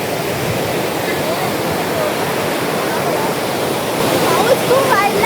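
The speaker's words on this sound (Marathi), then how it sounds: "आता खूप जोराचा पाऊस स्टार्ट झालाय" Heavy monsoon rain at the crowded Daryai Mata shrine near Nashik roars as a thick, unbroken wash of noise that swells louder near the end.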